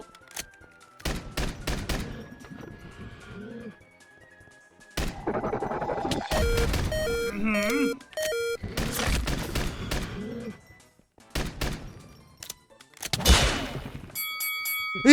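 Gunfire in a Minecraft-style Lucky Block battle against a dragon, heard as bursts of shots and impacts scattered across the clip, some rapid and clustered, others single, loud and close with game effects between.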